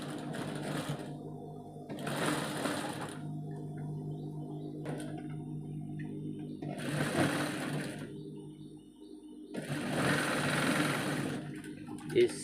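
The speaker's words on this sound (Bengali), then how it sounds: "চিকন করে সেলাই মারতে হবে।" A sewing machine stitches a shirt in three separate runs of steady, close mechanical whirring with quieter pauses between them.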